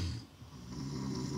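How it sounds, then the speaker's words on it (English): A man with a blocked nose snores loudly, a rough, rumbling breath heard close and continuous through the short stretch. "Yes, pretty loud snoring."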